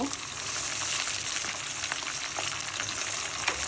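Garlic paste sizzles steadily in hot oil while a Bangladeshi-style potato, pointed gourd and hilsa fish curry is being cooked, a constant close frying hiss with faint crackles and no talk.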